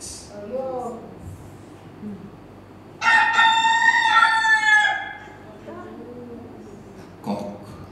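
A rooster crows once, loud and close, a strained two-second cock-a-doodle-doo breaking into quieter indoor speech that continues before and after it.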